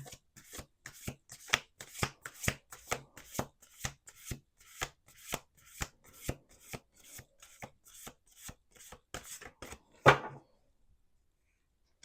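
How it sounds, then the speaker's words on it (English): Cards are shuffled repeatedly in a quick rhythmic series of riffling snaps, ending with one sharper clack and then silence. "Let's do one last shuffle. One last shuffle."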